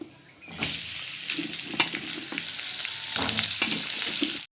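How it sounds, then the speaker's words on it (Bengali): Vegetable stems drop into hot oil tempered with spices, bursting into a loud, close sizzle after a quiet start, with intermittent stirring scrapes until it cuts off abruptly. "ফোড়ন দেওয়ার পরে ডাঁটাগুলো দিলাম। ডাঁটাগুলো একটু ভাজা ভাজা করে নিই"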